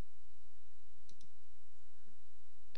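Two quick computer mouse clicks, close together and fairly faint, sound while someone works in a grid manager, over a steady quiet hum with no speech.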